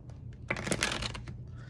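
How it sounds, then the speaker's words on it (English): A quick riffle shuffle of Simpsons tarot cards makes a brief, crisp flutter of rapid clicks, close and fairly quiet. "it's definitely going to be easy to riffle shuffle"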